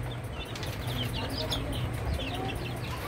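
Young Australorp and Fayoumi chicks and hens cluck and cheep faintly in a farm setting, soft scattered calls over a steady background hiss, with a person talking over them.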